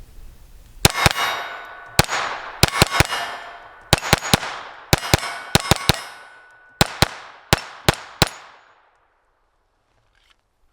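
A Sig P322 pistol fires Armscor round-nose ammunition: about eighteen sharp, loud cracks in quick, uneven succession, each with a brief metallic ring, before the firing stops and quiet follows.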